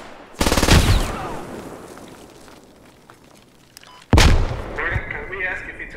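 Gunfire in a tactical military shooter game: a loud burst of close rapid shots, then scattered distant pops, then another sharp, heavy volley that trails off into fainter shooting.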